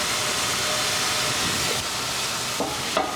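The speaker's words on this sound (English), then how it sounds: "Let those saute till they become translucent." Onions sauté in a hot pan for stuffed bell peppers, giving a steady, loud, close sizzle with a few faint stirring scrapes near the end.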